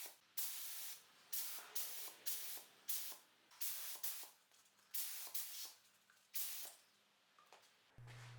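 Repeated short bursts of aerosol spray paint coating small 3D printed Mustang fluid cap covers, about nine close hissing sprays in a steady on-off rhythm with brief pauses, no talking.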